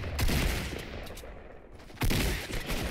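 Assault rifle gunfire in the Fortnite video game, dense bursts of shots in two loud clusters, at the start and again after about two seconds, with no talk over it.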